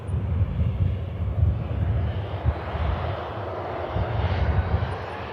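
Ryanair jet airliner bound for Berlin taking off from Manchester Airport, a loud sustained engine roar with low rumble, steady and fairly close, no voices.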